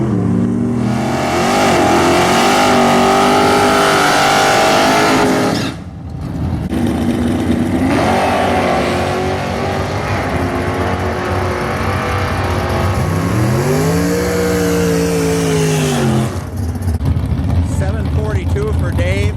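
A Plymouth Duster drag car running down the strip, a loud sustained engine roar with rising revs and gear changes, a brief dip partway, then a pitch sweep as it passes, with voices mixed in.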